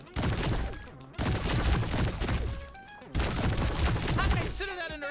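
Gunfire in the video game High On Life, a dense burst of rapid shots in a fusillade that stops and restarts several times across the clip, loud and up close, with no voices over it.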